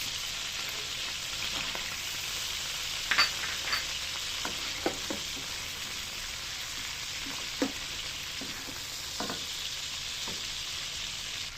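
Butter and onions frying in a pan for garlic mushroom chicken give a steady close sizzle, broken by scattered clicks and scrapes of a stirring utensil, with no talking.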